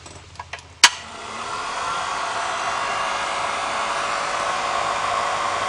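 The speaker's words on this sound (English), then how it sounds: "just make sure the heater blower works as well" The heater blower fan in a Morris Mini Cooper S switches on after a few small clicks and a sharp knock, then runs as a steady, loud whooshing whir that continues to the end.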